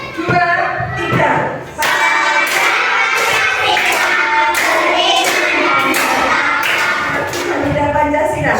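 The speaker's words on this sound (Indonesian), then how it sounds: "semuanya berdiri sambil tepuk tangan ya" Schoolchildren stand and clap along in a steady rhythmic beat while singing a Pancasila song in a classroom. The claps are sharp and regular, and the singing voices carry loudly over them after a brief pause near the start.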